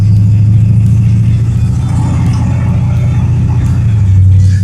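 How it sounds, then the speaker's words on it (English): Cadillac Seville with a rebuilt TH400 automatic transmission driving along, a steady loud engine drone that dips and rises as the gears shift, heard up close with no talking. "The Seville is shifting better than ever."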